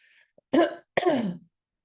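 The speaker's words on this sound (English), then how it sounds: "We're both going to cough." Two sharp, close coughs in quick succession, the second longer and raspier, with silence around them.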